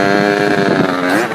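Stock 50cc motorcycle engine revving up hard, a loud close buzzing tone that climbs in pitch over a second or so, heard alone.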